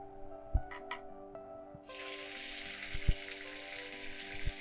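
Hot oil sizzles loudly as ivy gourd drops into the pan, a steady hiss with a few soft clinks and taps from utensils.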